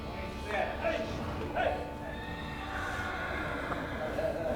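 A horse neighs a couple of times amid a low outdoor rumble at a cutting horse event, with faint hoofbeats and distant voices in the background.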